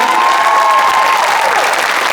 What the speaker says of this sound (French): peut applaudir s'il vous plaît Juliette Mahut des Célestins